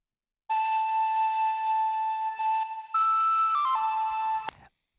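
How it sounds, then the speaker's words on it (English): An airy synth preset from the Sphere pack plays a long sustained tone, then steps to higher notes and slides back down before stopping abruptly, clear and alone with no talk. "I just used a preset from our pack Sphere just to give it that airy quality."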